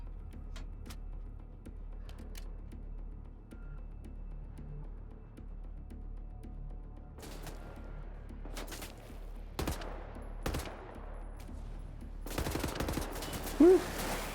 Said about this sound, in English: I've got some more assault rifle kills to get